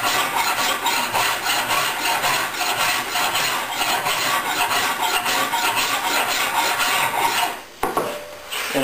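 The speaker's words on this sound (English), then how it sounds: "So try to keep the rasp flat," A wood rasp files a wooden workpiece in long, even strokes, a loud, continuous close rasping that stops abruptly near the end.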